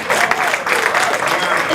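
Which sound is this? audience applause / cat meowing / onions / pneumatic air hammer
audience applause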